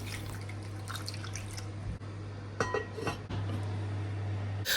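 Water is added to a pot of yam and eggs, giving soft trickles and drips over a low steady hum, with a brief clatter near the end.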